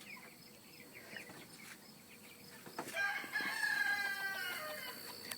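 Free-range chickens cluck and a rooster crows in the distance, with insects chirring softly in the background; no one speaks.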